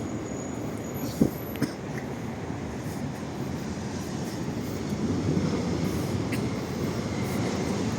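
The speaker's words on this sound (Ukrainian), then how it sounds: "Трамвай номер 6 ліворуч пішов" A number 6 tram in Lviv, Ukraine, rumbles steadily past at moderate distance, with faint rail clicks and a low continuous roar that swells slightly toward the end.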